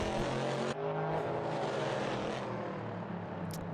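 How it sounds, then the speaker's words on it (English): Modded Corvette C7.R race car engine in Assetto Corsa, a steady loud drone with shifting pitch held throughout, one brief dip as it changes gear, and no talking. "I love the sound mod for this car."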